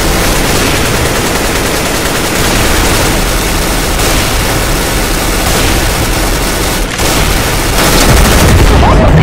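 Gunfire in the CS:GO video game, a loud, dense and continuous barrage of shots with no breaks, filling the whole stretch.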